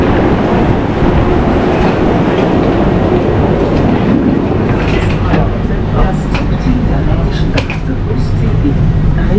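A Swiss regional express train runs past, a loud rumbling roar of wheels and carriages with rhythmic clatter and a few sharp metallic squeaks, steady throughout.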